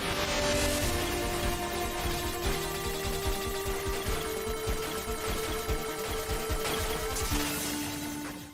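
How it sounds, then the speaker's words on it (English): A chiptune 8-bit version of a NieR soundtrack piece, with buzzy square-wave lead lines over pulsing bass notes, played steadily and fairly loud without any voice. "This track has an 8-bit version of it."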